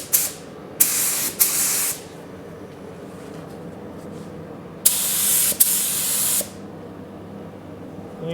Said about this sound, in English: get some spraying done.